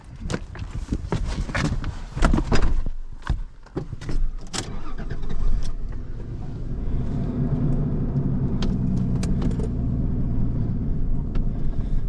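A car driven quickly over a rough, bouncing road, with a steady engine and road rumble near and loud throughout, plus sharp knocks and thumps of jolting in the first seconds.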